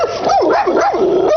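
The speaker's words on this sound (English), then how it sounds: "You can see and hear why as this dog almost jumps the fence." A dog right behind a fence barks and yelps furiously at a postal carrier in rapid, rising-and-falling bursts, loud and close, with no talking.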